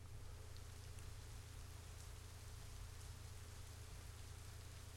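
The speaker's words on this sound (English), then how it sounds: "Am I taking a shower or is it raining? Oh, it's raining." Steady rain in the video game Assassin's Creed 3, a dense continuous hiss with a low rumbling undertone, heard alone at an even level throughout.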